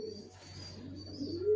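A pair of young black checker racer pigeons give a soft, quiet coo, a brief low murmuring call alone for about a second and a half.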